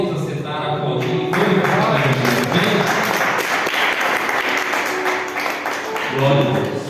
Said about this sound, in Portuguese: Podem aceitar, aplaudir.